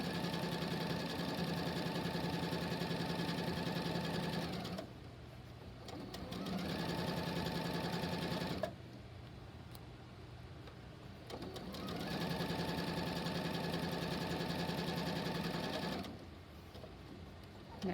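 A domestic sewing machine runs a back stitch while making a pillowcase, a fast mechanical whir in three long bursts with short pauses between, close and steady.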